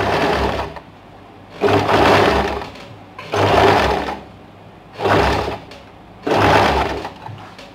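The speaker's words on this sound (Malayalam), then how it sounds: "ചുറ്റി റൗണ്ട് ചെയ്ത് സ്റ്റിച്ച് ചെയ്യാം." A sewing machine stitches piping around a garment neckline in five steady bursts of whirring motor noise, each a second or so long, separated by short pauses, close and fairly loud with no talking.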